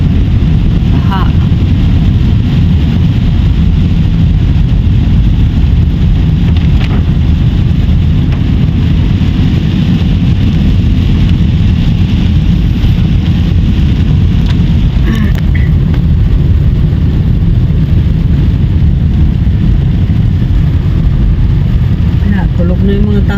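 Heavy, continuous rain at night in flooded Puerto Princesa, Palawan, a dense steady hiss with a low engine rumble running underneath.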